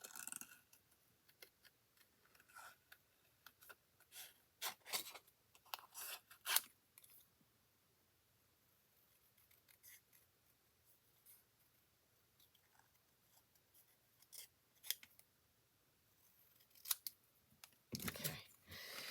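Paper being snipped with scissors while trimming around a stamped image for a handmade Christmas Z-fold card, heard as a series of short, close, crisp cuts in bursts with quiet pauses between them.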